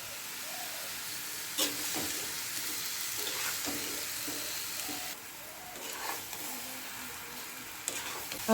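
Green banana and hilsa fish frying in a pan, with a steady close sizzle and occasional stirring scrapes and knocks throughout.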